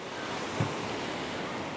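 Sea waves wash onto a dark-sand shore next to a fish market landing, a steady broad surf wash mixed with wind buffeting the microphone, with no clear breaks.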